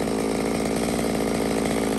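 A Stihl MS 200 chainsaw cuts at steady high revs, its engine buzzing loud, close and continuous with no pauses or talk.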